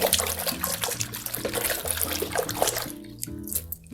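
Water sloshing and swirling in a basin as conditioner is stirred in by hand, a busy continuous splashing and trickling close by, easing off near the end.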